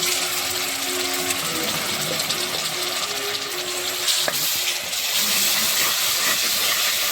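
Onions and ginger garlic paste frying for prawn biryani, a steady close hiss and sizzle that holds throughout, with a brief clatter near the middle.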